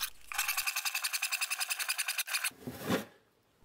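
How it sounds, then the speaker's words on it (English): A handsaw cuts a long straight line through a board, with quick, evenly spaced rasping strokes up close for about two seconds before the sawing slows and stops. "I'll cut the long straight line with a handsaw."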